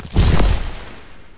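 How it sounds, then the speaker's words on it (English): A layered icy shockwave impact for ice magic after a blade hits the floor: a loud, dense crunching burst with shattering, glassy texture and a heavy low boom, decaying into a fading rumble over about a second. "there's something to go along with this icy shockwave that follows the hit. I layered three sound effects here."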